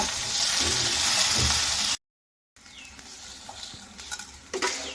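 Spoon stirring mashed long bean bharta in a pan after sugar is added, a soft scraping and sizzling texture that cuts out briefly, then returns quieter with light clinks.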